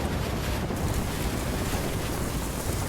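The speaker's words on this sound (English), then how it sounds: "These waves are not good." Storm waves at high tide during Hurricane Matthew, a constant loud roar of surf mixed with heavy wind buffeting the microphone, no voices.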